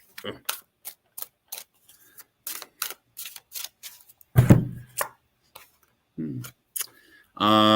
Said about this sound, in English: Better shuffle the deck.